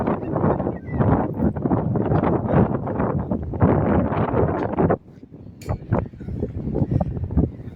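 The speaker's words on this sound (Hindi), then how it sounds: "बहुत प्यारी हवा चल रही है" Seaside breeze at the Corniche in Jeddah, buffeting the microphone in loud, gusty rumbles that rise and fall throughout, close and rough, with a brief drop partway before the gusts return.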